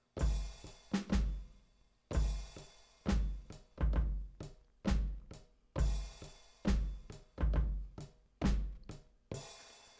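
Kick and snare drum beat programmed on a Maschine MK3, with punchy hits repeating in a steady loop, loud and alone with no talking.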